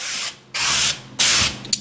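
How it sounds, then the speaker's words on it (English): Three long hissing bursts of a spray bottle misting water onto the window of a supercharged Z06 Corvette, close and loud, separated by short pauses, with a small click at the end. "spray it down"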